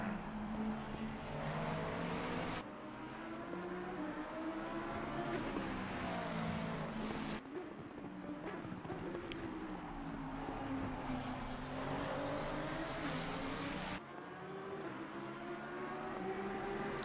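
Race cars, a Ford Mustang and a Lamborghini, running on wet tires in a 12-hour charity race, engines droning steadily with rising and falling revs and shifts, loud and sustained.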